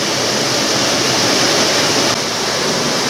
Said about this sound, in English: As you can possibly hear, got the old water wheel in there